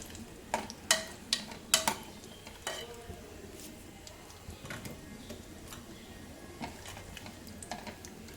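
Raisins and broken wheat roasting in a pan for Gujarati fada lapsi, with a few sharp stirring clicks and taps early on over a steady low sizzle, then fainter scraping and ticks.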